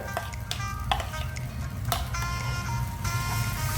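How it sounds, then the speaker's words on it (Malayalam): Chopped ripe plantain being stirred into a sweet paratha filling in a pan: repeated soft scrapes and taps of the spoon over a steady low hum, fairly close and continuous. "അതുകൂടി ചേർത്ത് കൊടുത്ത് നന്നായി മിക്സ് ചെയ്ത് കൊടുക്കാം"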